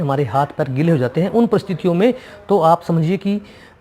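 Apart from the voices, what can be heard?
No everyday noise stands out behind the speech.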